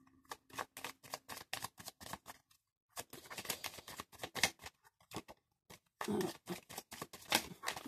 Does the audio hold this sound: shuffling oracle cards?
yes